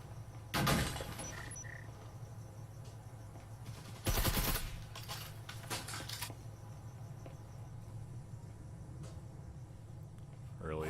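Gunfire in the VR esports shooter Breachers, with a loud burst near the start and another sharp volley around the four-second mark, then sparser shots over steady background hum.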